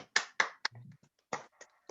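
A few scattered, sharp hand claps from a small church gathering at a Friday praise and prayer meeting, sparse and close, separated by brief silences.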